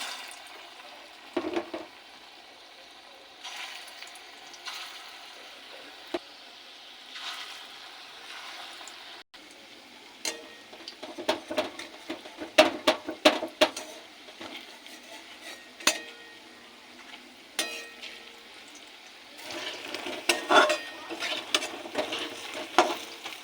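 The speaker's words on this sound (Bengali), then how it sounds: "কড়াইয়ে তেল দিয়ে দিয়েছি, তেল গরম হয়ে গেছে, এবার বড়ার আকারে ভেজে নেব" Lentil fritters frying in hot oil in a wok give a steady sizzle, with scattered clinks and scrapes of a utensil growing busier toward the end.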